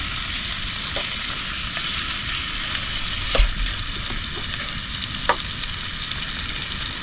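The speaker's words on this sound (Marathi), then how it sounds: "पनीर फ्राय" Paneer sizzles and fries steadily in a pan at a night-time jungle campsite, a continuous close crackle with a few soft stirring clicks and scrapes over the hiss.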